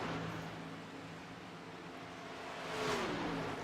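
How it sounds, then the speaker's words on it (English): Gen 6 stock cars in the iRacing game run out laps at Homestead-Miami, a faint, steady engine whir that swells briefly near the end as a car revs past. "drivers taking some out laps. Some other drivers are getting ready here this evening with these Gen 6 cars."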